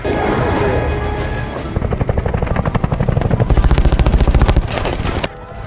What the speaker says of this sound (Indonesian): helikopter yang dinaiki Jacob datang dan menembaki mereka